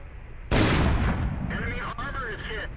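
A tank gun fires in a World of Tanks-style battle, a sharp loud boom at once followed by a rumbling impact tail and game effect tones, with a player's voice over it.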